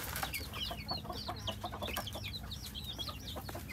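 A flock of young chickens kept with other birds, nonstop high peeping chirps in quick overlapping bursts, close and fairly loud, with lower clucks and soft background rustling beneath.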